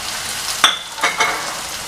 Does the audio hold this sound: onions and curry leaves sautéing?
yes